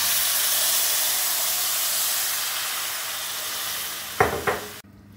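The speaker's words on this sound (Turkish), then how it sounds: "Üzerine 1 litre soğuk suyumu ilave ediyorum." Cold water, about a litre, hits pasta toasted in olive oil in a hot pan, making a loud steady hissing sizzle that holds throughout, with two brief sharper bursts near the end before it cuts off abruptly.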